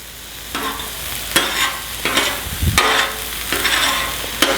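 Butter sizzles loudly in a hot pan for shrimp fried rice, with rhythmic bursts of stirring and scraping every second or so, near and alone.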